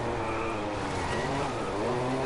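A Porsche engine in the racing game DriveClub drones loud and steady at high revs for a couple of seconds, with no talking.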